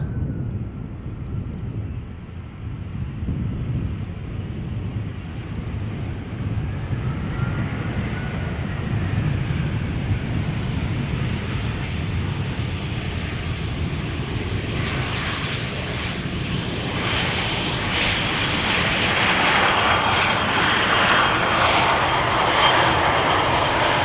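A Finnair airliner arriving from Helsinki on the Polderbaan runway at Schiphol Airport, a distant jet engine roar that steadily grows louder and broader as it approaches, with no talk.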